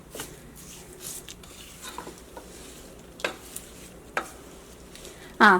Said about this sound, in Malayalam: ഇനി നമുക്കിതെല്ലാം കൂടിയിട്ട് നന്നായിട്ട് മിക്സ് ചെയ്യാം.